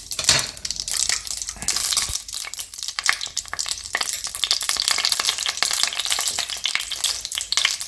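Mustard seeds popping and crackling in hot oil for a Kottayam-style fish head curry, a loud dense spatter of rapid crackles continuing throughout.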